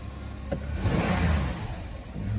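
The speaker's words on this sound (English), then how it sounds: "Revs up nice." A 2.7-liter Hyundai V6 of about 190 horsepower in a Kia Rondo revs up after a fresh spark plug change, the engine note rising and holding strong close by with a brief click near the start.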